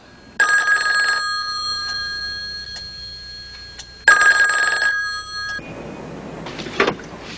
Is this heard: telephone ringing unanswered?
yes